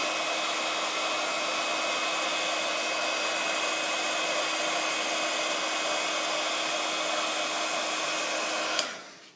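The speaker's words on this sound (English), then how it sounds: "the gold powder on there, but obviously it needs setting with the heat. So I'm just going to heat that up." A heat tool blows steadily to set gold embossing powder on a handmade card, a constant whooshing hum held alone for about nine seconds before being switched off with a click.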